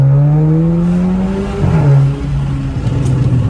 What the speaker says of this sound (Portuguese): Tivemos um bom ganho e os pipocos ficou muito bom também,